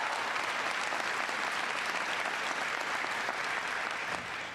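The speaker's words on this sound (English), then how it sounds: "Give John a big round of applause." A town hall audience claps and cheers in steady, dense applause that holds at a fairly constant level and eases slightly at the very end; no speech over it.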